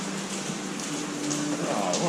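Steady rain falling in Coimbra, Portugal, a soft, constant hiss of drops close by with brief voices over it.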